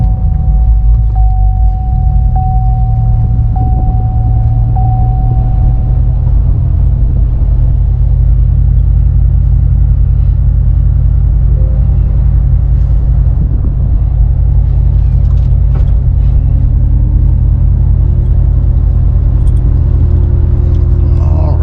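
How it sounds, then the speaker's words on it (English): A 2018 Chevrolet Corvette Z06 engine, already warm, starts and rumbles steadily at idle, a deep continuous drone close by, with a brief higher whine early on and no voices. "Here to start up. Not a cold start since the car's already warm."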